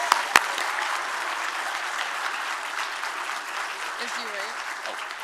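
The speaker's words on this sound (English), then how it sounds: "Let's give a big round of applause to all of our lead sponsors." Audience at a children's charity benefit applauding the lead sponsors, a steady wash of clapping across the whole stretch with a couple of sharp close claps near the start and a few faint voices underneath.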